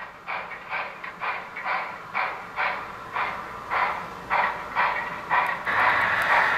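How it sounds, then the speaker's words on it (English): A BLI brass hybrid 4-8-4 steam model locomotive, SP&S #700, runs with a steady rhythmic chuffing, about a dozen regular puffs close by, rising slightly in loudness toward the end. "Just gonna start moving the locomotive."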